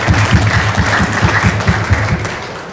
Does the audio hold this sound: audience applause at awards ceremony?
yes